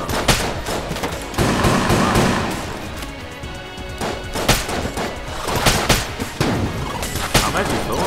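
Small grenades burst in rapid volleys in Enter The Gungeon, dense crackling pops and thuds stacked over continuous game gunfire and music, loud and busy throughout.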